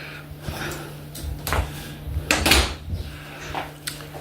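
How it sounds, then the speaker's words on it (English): A door inside a villa kitchen is shut, giving a few soft knocks and a firmer thud midway through a quiet room, with light handling noises around it. "We're just going to shut the door for you for a moment."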